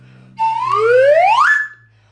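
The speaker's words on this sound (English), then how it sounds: "The slide whistle can go from low to high like this," A slide whistle glides smoothly upward from a low to a high pitch in one continuous rising tone lasting over a second, loud and close, with no other sounds around it.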